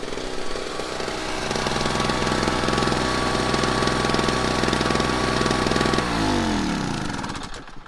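Newly unboxed portable generator running close by, a loud, steady rapid engine chatter that holds constant, then the pitch drops near the end as it winds down, with no talking.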